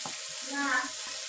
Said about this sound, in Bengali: এভাবে মশলাগুলো ভালোভাবে আমি ভাজা ভাজা করে নেব।